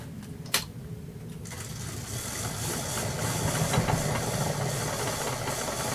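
A wood lathe spins a turned workpiece at about 330 RPM, giving a steady rumbling whir with a hissing, rushing layer on top and one sharp knock near the start.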